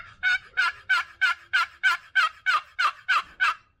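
A custom wooden turkey box call worked to imitate gobbling: about eleven sharp, evenly spaced rattling gobble bursts, loud and close, with no other sound between them.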